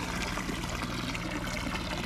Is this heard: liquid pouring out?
yes